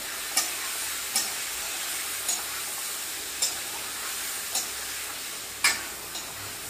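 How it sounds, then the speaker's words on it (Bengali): Spiced chicken fries in a pan for egg chicken fried rice, giving a steady sizzle. A utensil scrapes through it in sharp, evenly spaced strokes about once a second. "এবার আমি চিকেনটাকে ভালো করে"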